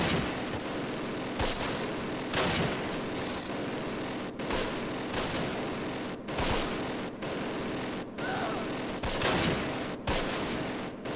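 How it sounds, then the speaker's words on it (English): MG42 machine guns rattle in the Close Combat The Longest Day war game with dense, continuous gunfire, sharper bursts cutting in every second or so at a steady, moderately distant level. "But that is the rate of fire of a MG42."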